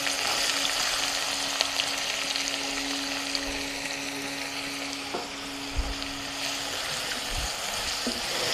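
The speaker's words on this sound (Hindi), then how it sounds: "प्याज को मीडियम हीट पे करीब 3 से 4 मिनट के लिए फ्राई कर लीजिए।" Finely chopped onions with cumin seeds frying in oil over medium heat, making a soft, steady sizzle with a faint tone and a few light knocks, no speech.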